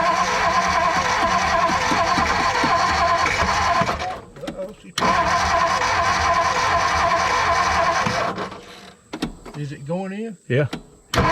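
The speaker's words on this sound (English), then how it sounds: "just because it's turning over don't mean it's getting fire" A 1957 Ford Fairlane 500 engine cranks and turns over steadily without firing, loud and close, stopping briefly and then resuming, with people talking over it.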